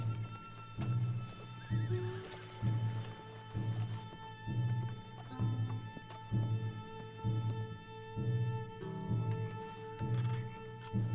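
Horses in Red Dead Redemption 2 whinny and neigh repeatedly in a steady rhythm over a layer of game music, with hooves clip-clopping close by and no talk.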